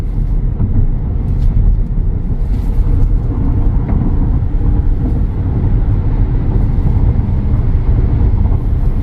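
An ORA Good Cat GT electric car accelerates from a standstill in sport mode. A steady, loud wash of road and cabin noise carries a low rumble, with no voices.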